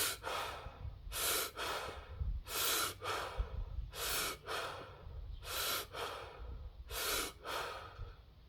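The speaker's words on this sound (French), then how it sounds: "je vais faire une démonstration en faisant du son et en respirant par la bouche, juste pour vous montrer un petit peu comment ça sonne" Connected conscious breathing demonstrated through the mouth: a steady rhythm of loud, close, airy breath cycles, each strong inhale running straight into a relaxed exhale, about eight cycles with no pauses or talking.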